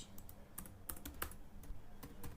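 Fingers typing on a computer keyboard to enter details in Tally Prime accounting software, giving a quick run of close, crisp key clicks at an uneven pace with no talking.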